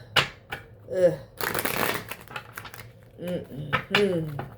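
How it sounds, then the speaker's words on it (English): A deck of cards is shuffled loudly with a long riffling burst, mixed with voiced sounds and clattering card flicks close by. "A lot of cards from this deck came out when I was shuffling here."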